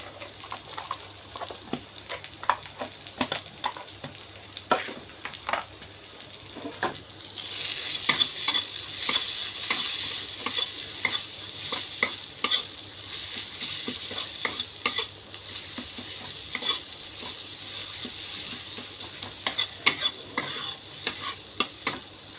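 Ground cumin, turmeric and chili powder frying in a pan, with a continuous hiss that swells partway through under rapid, repeated scraping and tapping of a stirring utensil, close up.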